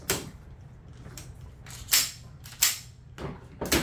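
Shots from a rifle at an outdoor shooting range crack out close and loud, four or five sharp reports at irregular intervals with quiet gaps between them.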